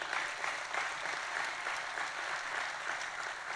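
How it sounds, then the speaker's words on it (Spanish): A church congregation claps together in sustained, even applause, a dense wash of many hands that holds steady at moderate loudness throughout, with no voices rising above it. "Dale un aplauso a Dios por eso."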